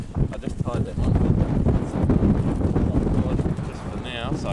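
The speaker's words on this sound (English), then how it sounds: "it's probably all that wind howling noise that everybody loves on our YouTube videos" Strong wind howls and buffets across the microphone aboard a sailboat, a loud continuous roar with gusting surges and some rattling on deck.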